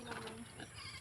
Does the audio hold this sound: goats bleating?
yes